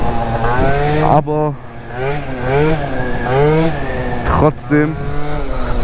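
A 70cc Yamaha Aerox mk2 scooter with a carburetor not yet properly tuned, revving hard while riding, its engine note rising and falling in repeated loud sweeps with brief drops between, and a rider speaking briefly over it.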